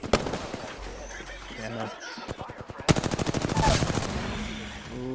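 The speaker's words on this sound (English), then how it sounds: "Open fire on the enemy." Rapid automatic gunfire from an Apex Legends ranked match, with a burst early and then a long, steady rattle of close, loud shots in the second half, under game effects and a player's brief spoken reaction.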